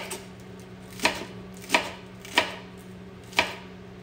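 Lettuce being chopped on a cutting board with a knife, four crisp, evenly spaced cuts over a steady low background hum, close and clear with no talk.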